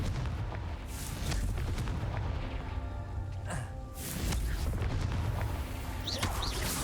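A Confringo blasting spell explodes in Hogwarts Legacy, sending heavy low booms and rumbling blasts through a dense stretch of game noise, with a couple of louder bursts and sharp high zaps.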